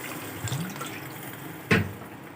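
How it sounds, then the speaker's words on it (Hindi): Water is poured into a cooking pot of Lahori chicken chole, a faint splashing trickle with a short, sharper gush toward the end, close and otherwise quiet. "थोड़ा सा और पानी डालेंगे इसमें।"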